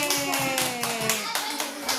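Guests clap at a child's fifth birthday party, a steady run of quick, close claps in regular bursts with a tonal sound ringing underneath.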